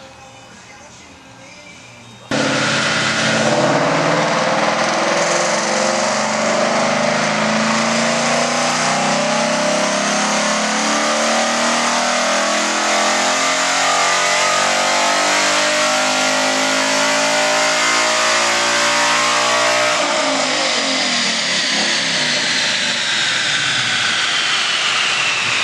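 A 2015-2017 Ford Mustang with an upgraded intake manifold roars through a full dyno pull, its engine note climbing loudly and steadily for about eighteen seconds before dropping off, heard close and alone after a brief quiet start.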